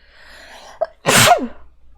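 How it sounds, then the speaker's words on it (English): A single loud, close sneeze with a quick intake of breath beforehand and a short vocal tail. "Sorry, I have to sneeze."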